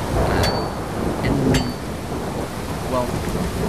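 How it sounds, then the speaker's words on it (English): Rain and thunder in the Skyrim video game: a steady wash of rainfall hisses throughout, with a few sharp cracks and rumbles of thunder rising above it near the start and middle. "I'm in rain."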